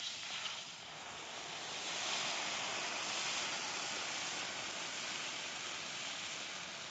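Water from a glass poured into a hot kadhai, a steady broadband hiss and rush that swells slightly midway and holds for several seconds, close and fairly loud with no voices.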